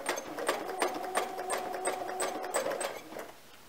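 A sewing machine doing free motion quilting, a steady rapid mechanical stitching rhythm with a faint motor whine, close and continuous for about three seconds before stopping.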